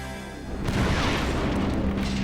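A cannon made from a hollowed tree trunk explodes in a Hungarian town myth test, a loud booming blast that rolls into a long crackling rumble of debris, with no talk.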